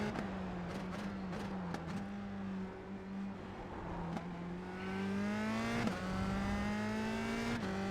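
Simulated race car engine in iRacing on the final lap, a steady close drone with rising and falling pitch as it revs through gears, a few brief clicks and shifts, no talk.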